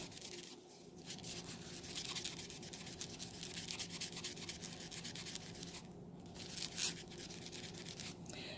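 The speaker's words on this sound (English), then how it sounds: "So now I just sprayed a little bit on there, and I'm gonna scrub a little bit more, get that off." Brisk scrubbing on a shoe sole, working a sprayed cleaner over permanent marker ink, gives steady close-up rough rubbing strokes that run without pause and never let up.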